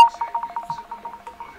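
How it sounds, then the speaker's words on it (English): An incoming call on a radio call-in show chirps as a rapid electronic trill, a steady string of short even pulses, clear and alone. "We're getting a phone call."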